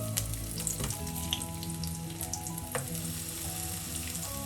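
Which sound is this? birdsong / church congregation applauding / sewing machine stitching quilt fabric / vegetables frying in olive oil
vegetables frying in olive oil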